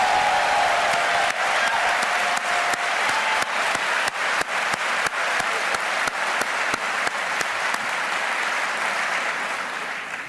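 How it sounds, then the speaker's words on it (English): An audience at Atlanta's State of the City address applauds in tribute to President Jimmy Carter, with loud, sustained clapping and sharp individual claps throughout before it begins to taper near the end. "Let's give one more round of applause for the life and legacy of the one and only President Jimmy Carter."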